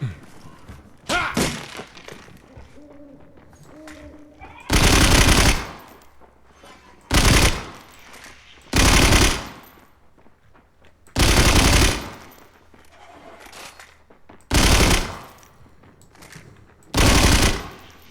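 Loud bursts of rapid automatic video game machine gun fire come in short volleys, separated by gaps with quieter thuds and background game sounds.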